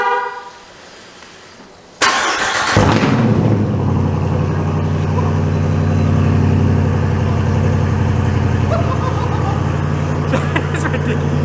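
A Jeep Wrangler engine cranks and fires up with no exhaust fitted, then settles into a loud, raw, rumbling idle close by, with a brief horn-like tone just before the start.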